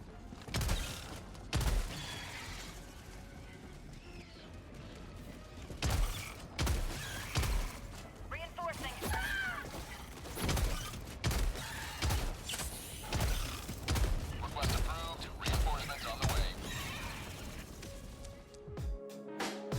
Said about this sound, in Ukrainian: Дробовик також має доволі високу швидкість ведення вогню